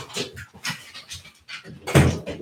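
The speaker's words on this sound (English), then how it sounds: "Poor dog." A dog pants heavily and rhythmically up close, loud rapid breaths repeating in short bursts, during a fight watch party.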